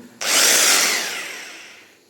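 A hammer drill kicks in abruptly and whines loudly for about a second, then its high buzzing slowly fades away, in a basement.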